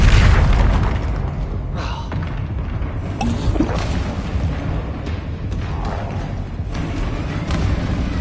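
A Depulso spell blast in the Hogwarts Legacy video game, a loud booming burst followed by a steady dense roar of game effects that continues throughout.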